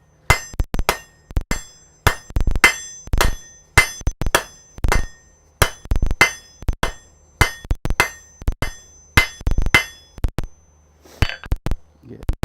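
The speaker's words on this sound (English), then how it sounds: "Use the rounding side of my hammer to expedite that." Hammer strikes on hot metal at a smithy anvil while drawing stock into a stem shape, a loud, close series of sharp ringing blows in an uneven rhythm with brief pauses between bursts.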